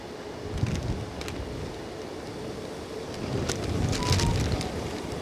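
Strong wind gusts buffeting a microphone at Edinburgh Airport during Storm Floris, with a steady low rush that swells and surges toward the end, moderately loud and without speech.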